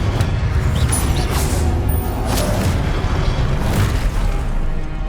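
Confringo spell explosions in Hogwarts Legacy: a continuous dense rumbling boom with repeated blasts and crackling bursts, loud and close throughout.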